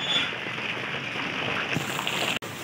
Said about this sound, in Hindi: पायल आ गई, बारिश आ गई,